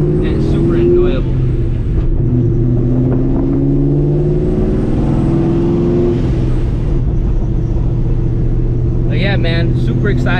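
A supercharged 2004 Mustang GT cruises at an easy pace, its engine a loud, steady, rumbling drone that holds close and constant throughout.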